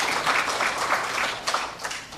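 A church congregation applauds in thanks, the clapping dense and steady for about two seconds before it thins out into a few scattered claps.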